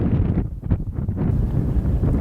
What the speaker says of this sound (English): Windy and rainy.